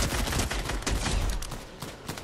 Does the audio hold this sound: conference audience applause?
no